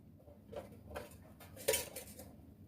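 Chicken momos served onto plates: a few light clinks and taps of a utensil against crockery, with one sharper clink near the end, all close and quiet with no talking.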